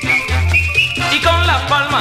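Group whistling along to a festive Spanish gaita song, a bright sustained whistled melody riding over steady music with a strong low bass line, continuous and fairly loud throughout.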